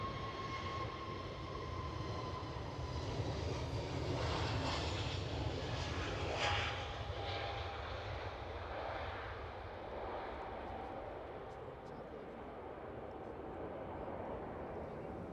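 An airliner departing Edinburgh Airport gives a steady, broad engine roar that swells to a peak midway and then holds, with a thin whine above and people talking nearby.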